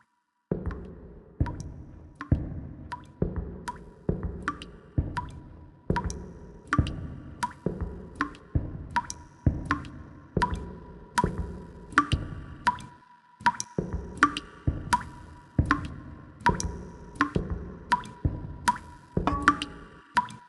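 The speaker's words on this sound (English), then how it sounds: "There's a pipe that's always leaking right above it. I guess I'll just have to walk towards the dripping sound." Water drips steadily from a leaking pipe in the audio game Blind Escape, a clear, close plink landing roughly every second, each drop sharp and wet with a short ring, repeating alone for the whole stretch.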